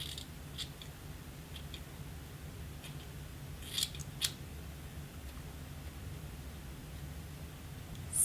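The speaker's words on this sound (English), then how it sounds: "I'm going to flip that over and cut just about halfway" Sharp scissors snipping through clip-in hair extensions, a couple of quick close cuts clustered together amid otherwise quiet room noise with a low hum, plus a few faint softer snips.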